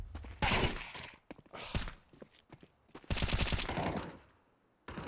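Repeated bursts of automatic gunfire in an esports shooter match, loud close volleys separated by short quieter gaps, with a few scattered single shots between them.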